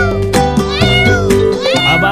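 A kitten meows repeatedly in loud, close, wavering cries, several calls in quick succession hiding behind a parked vehicle outdoors, with faint voices in the background.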